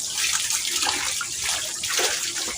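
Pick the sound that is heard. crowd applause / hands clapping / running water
running water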